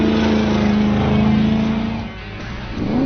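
The Ronaele 700R Mustang's V8 revs loud and close, holding a steady roar before dipping and then climbing again as the throttle opens.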